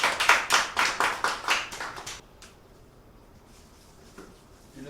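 Applause from a church seminar audience welcoming a pastor to the stage: about two seconds of dense, fairly loud clapping that quickly dies away into a quiet room with faint rustling.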